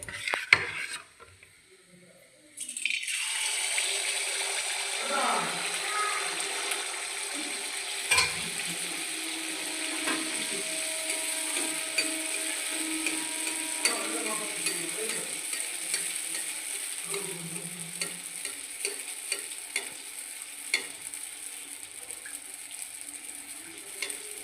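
Oil pitha made of flour, rice flour and sugar frying in hot oil, a continuous soft sizzle after a brief quiet start, with occasional clinks of utensils against the pan.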